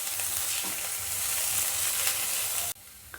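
Vegetables stir-fried in a pan for Mumbai-style Schezwan fried rice give a close, steady sizzle and crackle with faint scraping, cutting off abruptly near the end.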